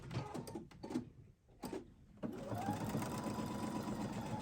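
A sewing machine stitches a quilt block in a steady, fast mechanical whir after a few short stop-start bursts, running close and continuous to the end.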